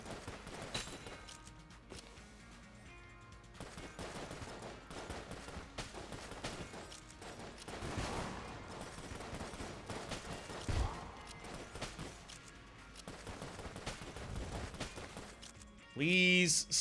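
Gunfire in Enter the Gungeon, a video game, comes as rapid bursts of shots mixed with game music and effects, steady at moderate loudness, and a voice talks over parts of it.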